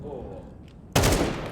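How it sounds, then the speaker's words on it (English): An HE grenade goes off in Counter-Strike on the Anubis map during an esports match. A sudden loud blast cuts into a quieter stretch of game noise and then lingers as a sustained roar. "That was a beefy nade."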